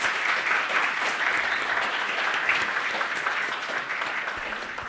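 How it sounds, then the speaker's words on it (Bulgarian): Sustained audience applause at the close of a conference talk on C++ programming, a steady dense wash of many hands clapping at even loudness throughout, with no voices standing out. "нека да изпратим Николай с аплодисменти."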